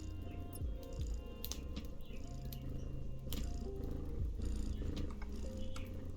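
Close, steady kitty purring hums in a low rumble throughout, with a few soft background taps and no voices.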